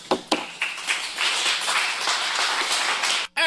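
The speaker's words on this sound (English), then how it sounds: "Everybody clapping." A group of people claps, starting with a few scattered claps that build into a dense burst of applause before stopping abruptly.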